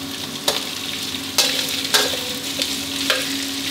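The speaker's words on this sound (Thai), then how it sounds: "ให้เราผัดหมู3ชั้นกับพริกแกงให้หมู3ชั้นเขาเริ่มสุกขึ้นมาก่อนนะครับ" Pork belly sizzles with curry paste as it is stir-fried in a pan, a steady close hiss broken by several sharp scraping strokes of the spatula.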